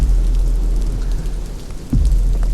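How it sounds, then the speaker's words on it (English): Steady rain in the horror game The Mound: Omen of Cthulhu, a continuous close wash of droplets with a deep low rumble underneath, unbroken across the moment. "one of the greatest highlights so far is the sound of the rain"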